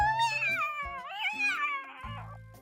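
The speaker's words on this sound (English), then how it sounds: "Zayne and I immediately rush to the balcony when we hear those cries" A distressed cat cries from a balcony in the video game Love and Deepspace, drawn-out wavering meows rising and falling, close and fairly loud, with a low soft music bed beneath.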